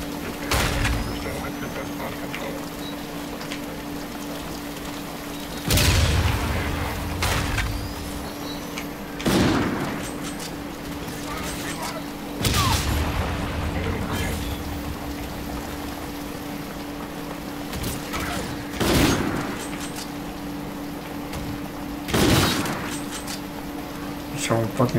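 Grenade explosions and gunfire in the video game Infinite Warfare: a handful of heavy booming blasts spaced several seconds apart over a continuous hum of battle, with a voice talking in between.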